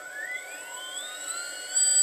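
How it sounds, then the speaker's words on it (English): A diametric magnet motor with a magnetic encoder spins at 2000 RPM, its sound slowed down greatly: faint rising whine tones glide upward and then hold steady, with a soft hiss beneath and no voices. "This motor is spinning at 2000 RPM and is slowed down 60 times."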